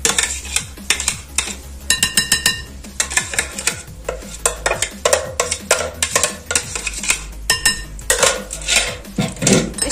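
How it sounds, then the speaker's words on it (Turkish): Revani batter of flour and a whole pureed orange being whisked in a bowl, with brisk, irregular clinks and scrapes of a whisk against the bowl at close range, no talking. "Şimdi yavaş yavaş çırpmaya başlıyorum."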